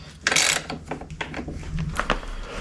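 A ratchet tightens a rear subframe bolt on an XR250R motorcycle, a close series of quick clicking strokes with short pauses and some metallic handling, no talking.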